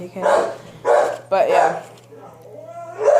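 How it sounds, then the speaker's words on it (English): A pet dog barks in short bursts of two or three yaps close by, its voice mixing with a person talking loudly over it indoors, with a faint steady hum underneath. "if you hear my dog barking in the background"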